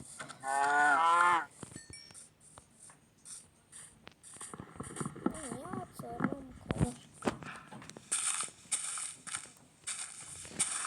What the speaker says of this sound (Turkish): Aha bir tane daha inek.